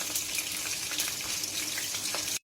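Green chillies hit hot mustard oil in a pan with a continuous bright sizzle and crackle, steady and close throughout.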